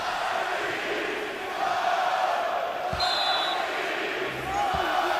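Steady roar of a packed college basketball arena crowd at a Washington Huskies NCAA tournament game, a broad continuous murmur with a few ball thumps, under close play-by-play commentary.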